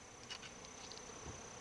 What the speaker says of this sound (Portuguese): O aumento repentino do zumbido entre as abelhas indica a necessidade de mais uma dose de fumaça.